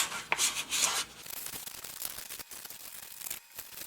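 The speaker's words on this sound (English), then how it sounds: "do a little bit of wet sanding just to get it nice and smooth before we put our paint on" A car wheel rim, from a BMW M3, is wet sanded by hand, producing soft, irregular rubbing and scuffing strokes up close, with a few short pauses between them.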